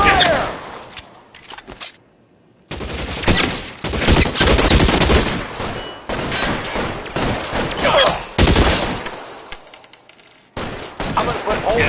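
Video game gunfire in L.A. Noire, dense bursts of rapid shots in loud sustained volleys broken by brief pauses.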